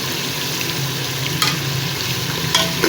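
Chicken frying in a pan with a couple of spoons of yogurt just added, a steady close sizzle running throughout with a few brief louder scrapes of stirring.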